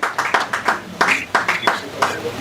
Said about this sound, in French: Sinon, applaudissements collectifs.